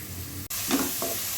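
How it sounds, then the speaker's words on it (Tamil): Chopped vegetables, cut into squares, sautéing in a pan for paneer butter masala, a brief steady sizzle with soft stirring scrapes and a short break partway through. "இது இந்த அளவுக்கு நல்லா வதக்கியாச்சுங்க."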